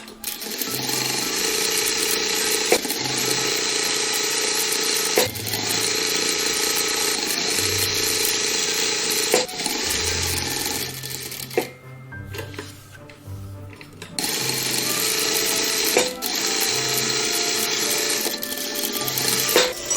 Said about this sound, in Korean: 이제 한 면을 박아줍니다.